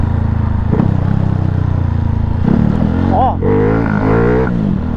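A Honda Pop 110 motorcycle bored to 170cc idles and then revs up and down while riding on a highway, loud and close, with someone talking over it.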